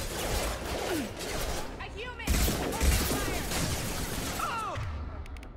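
Gunfire in the video game Mass Effect 2, rapid shots and blasts over a busy mix of game effects, with a louder burst midway.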